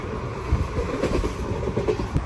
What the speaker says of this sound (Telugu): కొట్టి పడేస్తుంది అసలు ట్రైన్.